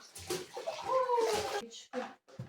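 Water is poured over a cat during a bath, a brief splashing pour heard close up with voices speaking over it.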